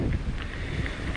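Wind buffeting a microphone in low rumbling gusts during an enduro ride, a brief steady rush with no voices.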